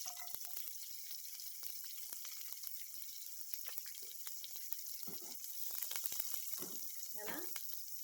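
Chopped onion and green chillies frying in a pan for bun dosa batter, a soft steady sizzle with scattered crackles and clinks throughout, growing a little busier near the end, with no talk over it.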